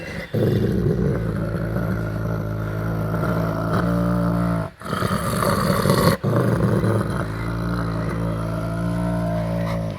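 Dog growling fiercely while guarding a bone, a continuous deep rumbling snarl close to the microphone, broken by two short pauses and then resuming with the same sustained intensity.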